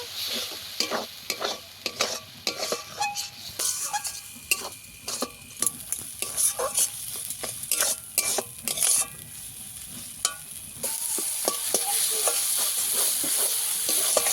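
Spice paste for a chicken curry is stir-fried in a pan with a little water, with repeated scraping strokes of a spatula over a steady sizzle that swells louder and more continuous toward the end.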